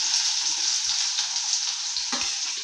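Onions dropped into hot tempering oil for noodles, giving a continuous close sizzle with a few soft utensil knocks, no voices.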